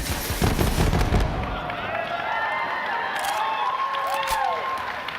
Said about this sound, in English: But if we switch our alternate firing modes, we fire off micro missiles.